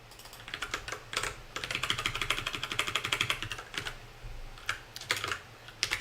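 Quick bursts of typing on a computer keyboard as a mkdir command is entered, close and crisp, with a dense run of rapid keystrokes in the middle and scattered taps before and after.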